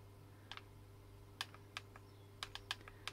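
Arduboy FX handheld game console buttons with old-style carbon contacts being pressed, giving about nine sharp, light clicks in irregular bursts over a faint steady hum.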